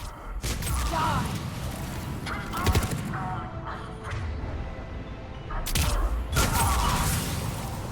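Gunfire in Mass Effect 3 during a combat mission: repeated sharp blasts in bursts with mechanical clacks and thuds between them, loud and close over busy game sound.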